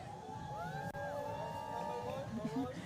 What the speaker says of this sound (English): We actually got a really loud cheer for those ladies just now